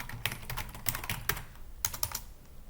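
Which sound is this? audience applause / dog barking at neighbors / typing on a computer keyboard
typing on a computer keyboard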